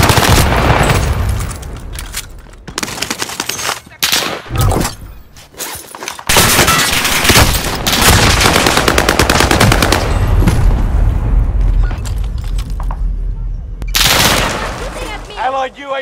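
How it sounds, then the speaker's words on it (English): Dense bursts of automatic gunfire in the video game Call of Duty Warzone Rebirth, loud and close, broken by short gaps and scattered single shots, with game sounds and voices mixed in. "They're shooting at me."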